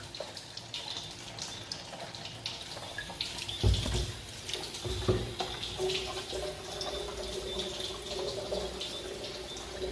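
Water streams steadily from the outlet of a Kangen water ionizer machine, a continuous close faucet-like flow with small splashes and a couple of louder gushes near the middle.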